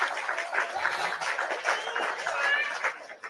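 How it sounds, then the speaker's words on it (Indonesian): Brief applause in an online Christian Q&A session, a patter of clapping mixed with voices and light chatter. "Tepuk tangan buat Naher yang cakap dan manis."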